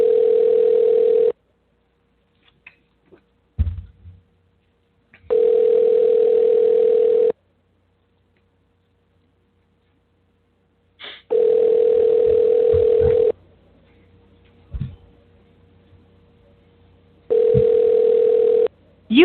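Four long ringback tones on an outgoing telephone call, each a steady buzz lasting about two seconds and separated by longer silent gaps. Faint clicks and brief handling noises fall between the rings. No one speaks.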